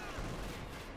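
Gunfire in Company of Heroes 2, a brief dense burst of rapid shots that stays loud for about a second, with a caster's voice underneath.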